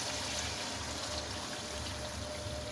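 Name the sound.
water poured into pan of mutton liver masala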